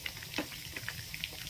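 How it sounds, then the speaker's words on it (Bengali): Chicken frying slowly in a covered pan over low heat, giving a soft, steady sizzle and faint patter with scattered small pops, fairly quiet and continuous with no talking. "আমি এটা লো হিটে ভাজছি, সেই জন্য আমি ঢাকা দিয়েছি"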